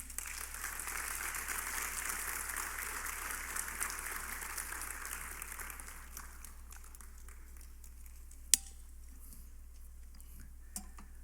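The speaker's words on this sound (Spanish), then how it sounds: "Denle un fuerte aplauso al Señor." A church congregation claps loudly and steadily, then the applause thins out and fades into scattered claps and quiet.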